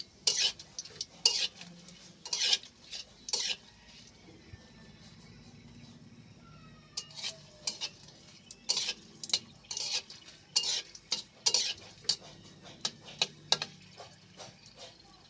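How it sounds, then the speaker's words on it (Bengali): Dried red chilies frying in hot oil in a pan, a soft sizzle under repeated sharp scrapes and taps of a spatula stirring in bursts, close and fairly quiet. "শুকনো ঝালগুলো লাল লাল করে ভেজে নেব"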